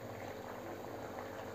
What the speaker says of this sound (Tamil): இப்போ பாகு நல்லா கொதிச்சிடுச்சு.